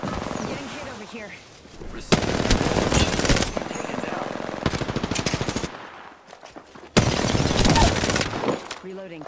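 Rapid automatic gunfire in the battle royale game Apex Legends, playing as Pathfinder: loud, close bursts of fast shots separated by short pauses, with a voice speaking between volleys.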